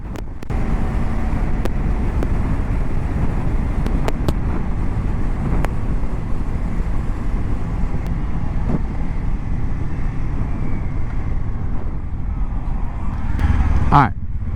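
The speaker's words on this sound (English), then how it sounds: "it feels good outside, but damn, it's windy" Wind roars and buffets steadily around a rider on a Kawasaki Ninja 500 motorcycle, a dense, continuous rush with a few sharp gusts and clicks. A muffled voice may sit faintly under it.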